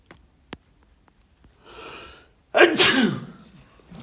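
A person sneezes twice, close and loud: a soft first sneeze after a quick inhale, then a sharper, stronger second one, with quiet breathing before and after.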